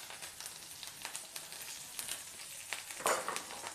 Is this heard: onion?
yes